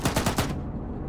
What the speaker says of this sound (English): What are you shooting at, Ross?